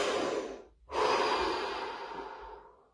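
A single deep breath drawn in and slowly let out during a guided relaxation exercise, close and soft, with a brief pause before a long fading exhale.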